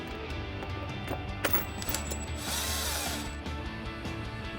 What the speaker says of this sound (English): Then we'll grab our 13mm socket on our impact, tighten these down.